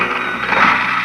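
A cash register sound effect played over AM radio on KFWB Los Angeles, a short mechanical ringing clatter with a bell-like chime, heard alone through a slightly muffled broadcast.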